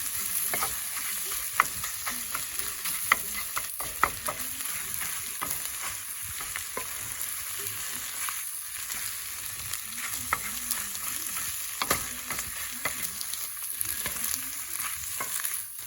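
Eggs frying in a pan for an eggs-in-hotdog-with-bread breakfast give a steady close sizzle throughout, with small clicks of stirring scattered over it and no talking.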